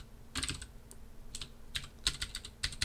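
Computer keyboard typing during a programming lecture: close, crisp key clicks in irregular bursts, a quick cluster early then a denser run of taps toward the end, with no speech.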